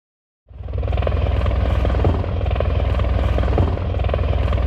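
A helicopter's rotor thumps and engine roar begin abruptly and continue steadily and loudly, with a rapid chopping pulse throughout.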